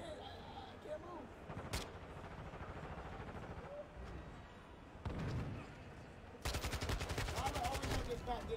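Gunfire in the Call of Duty: Modern Warfare II video game, with sharp single shots and then a sustained rapid burst near the end, heard under ongoing game sounds.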